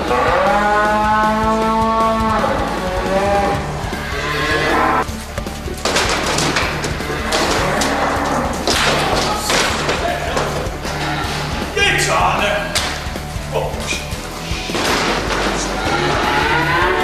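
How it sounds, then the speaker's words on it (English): Beef cattle moo loudly at close range amid clanging metal, thumps and rattling as they are herded through gates and loaded onto a cattle trailer. "The cows are loaded onto a special cattle trailer."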